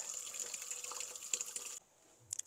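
Water running from an outdoor tap fed by a hose, a steady hissing stream close by that stops abruptly, followed by a few faint drips and splashes.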